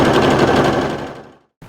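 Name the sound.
sewing machine automatically stitching a buttonhole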